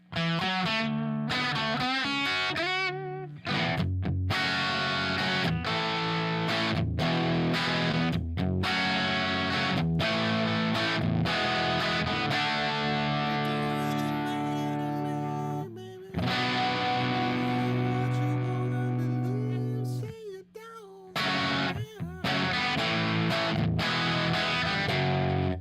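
A Les Paul Jr. electric guitar through a distortion effect plays sustained, heavily saturated chords and riffs, loud and continuous with a few brief breaks between phrases, with no voices over it.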